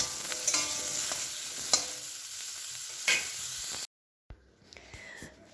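Food sizzles steadily in a frying pan, with a few sharp scraping stir strokes, before the sound cuts out abruptly and a quieter, faint hiss follows.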